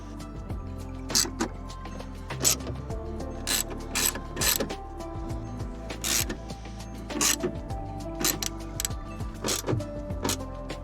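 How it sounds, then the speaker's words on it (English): Ratchet wrench tightening bolts on a Skoda Octavia Mk1 window regulator inside the door, rapid close clicking bursts in repeated short runs with brief pauses between them. "with all of our bolts in, it's time to tighten them down"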